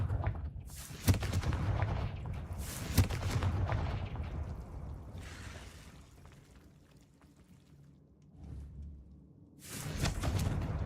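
The Confringo fire spell in Hogwarts Legacy goes off as a series of booming, whooshing blasts, two sharp hits close together early on, then a softer burst midway and another loud one at the end, with no talking.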